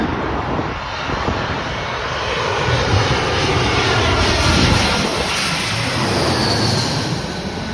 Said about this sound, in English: We got an Airbus A319-131, United Airlines from Indianapolis